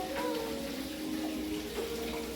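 Water runs continuously from a tap while someone washes a fridge with vinegar and hot water. The flow is a faint, steady rush with a slight tonal hum.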